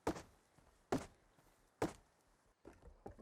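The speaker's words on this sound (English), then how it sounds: "Pretty sure I just heard footsteps outside" Footsteps outside a base in the Rust survival game, three sharp, evenly spaced thuds followed by a softer cluster of steps, fairly close and alone with no talking.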